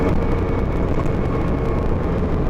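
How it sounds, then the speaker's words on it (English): A Porsche 911 Safari driving off-road, its engine a steady, loud, close rumble and whir with broad road and wind noise that holds evenly throughout, no voices. "just driving along, the car handles incredibly well, and it sounds amazing"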